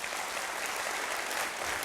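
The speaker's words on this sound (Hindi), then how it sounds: "अब जोर से तालियां बजाइए।" Applause from the audience at an industrial safety technical session, a dense, steady wash of many hands clapping that holds at an even level for the whole two seconds with no voices over it.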